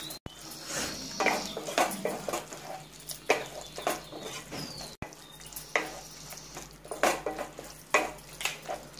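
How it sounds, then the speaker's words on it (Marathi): Tomato chutney fries in a pan with salt as a spoon stirs it, scraping and clinking strokes over a steady sizzle, repeated in uneven bursts. "आपण त्यामध्ये आता मीठ चवीनुसार घालायचं आहे, आणि त्यातली हे मिक्स करून घ्यायचं आहे चांगलं"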